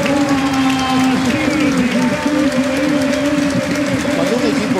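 Stadium crowd at a Colón vs. River Plate football match applauds a substituted forward, a broad continuous roar of clapping with sustained tonal murmurs and chanting beneath, close and steady throughout.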